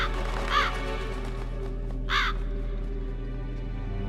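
Crows caw in the video game Metal Gear Solid, two distinct calls spaced a second and a half apart over a low steady ambient drone, with no talk.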